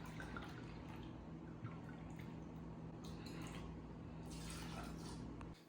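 Dry red wine pours steadily from the bottle into a measuring cup for a half-cup portion in a home kitchen, a soft continuous liquid trickle with faint drips under steady room noise.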